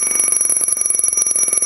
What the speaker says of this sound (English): The low air alarm will approximately shut off at 200 psi.